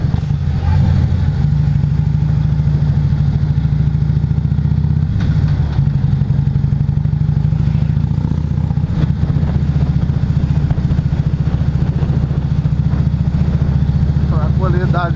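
Harley-Davidson Road Glide motorcycle engine idling, a loud, steady low rumble close by that runs throughout with no pauses, outdoors on a quiet residential street.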